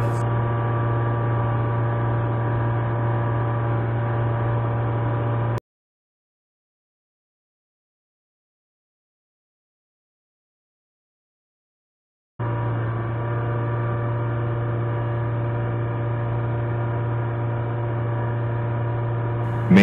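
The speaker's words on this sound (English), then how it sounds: "Turn on blower." A blower runs on a pneumatic bulk trailer during unloading, producing a steady, loud droning hum that cuts out completely for several seconds and then resumes unchanged.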